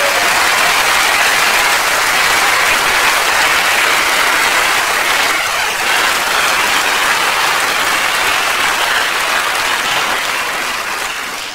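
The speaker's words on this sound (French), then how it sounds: "on peut applaudir." Loud, continuous theatre audience applause at the end of a comedy show, a full, steady roar of many clapping hands with no talk, easing off slightly in the final seconds.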